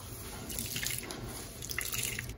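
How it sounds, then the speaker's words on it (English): Water streams and drips as riced cauliflower is wrung out in a clean dish towel over a sink. The trickle is steady and close for the whole stretch, with no talk. "gathering up our cauliflower into our clean dish towel and giving it a good wringing"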